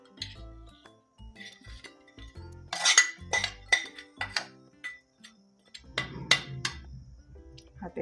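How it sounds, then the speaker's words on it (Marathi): A spoon clinks and scrapes against a metal pot as a cooled tempering of ginger and chilli is stirred into raw mango rice, with irregular close taps followed by softer mixing sounds. "आपली फोडणी थंड झाली आहे, ती पण घालून घेऊया आपण ह्याच्यामध्ये."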